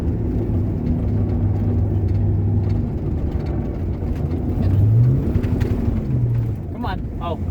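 A Ford Mustang's engine drones steadily while the car slides, with pitch swelling and falling as the throttle works, heard close from inside the car with a brief chirp near the end.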